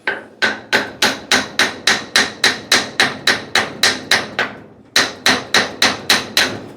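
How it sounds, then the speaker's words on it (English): Steady rhythmic hammer blows on a cast iron Prentiss No. 20 swivel jaw vise, roughly three strikes per second, loud and close with a sharp ring, briefly pausing before the pounding resumes. "that's why I feel comfortable just hammering on this, because the face of this is going to deform before, this cast iron will"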